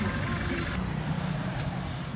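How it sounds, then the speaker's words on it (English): Noisy truck engine heard from inside while riding in Thailand, a low rumbling drone with rattling, steady and close under road noise. "why is this truck really noisy?"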